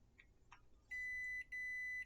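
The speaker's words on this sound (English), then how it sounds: "I'm rudely awakened by the irritating yap of my alarm, even though it's a Saturday." An alarm clock gives two steady electronic beeps, about half a second and a little over half a second long, separated by a brief gap, after a couple of faint soft taps.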